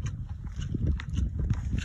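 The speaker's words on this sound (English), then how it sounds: "Oh, this white horse is hungry." A white horse on a farm shuffles and clip-clops on the ground, soft irregular hoof thuds and stamps close by under a murmuring background, with no clear speech.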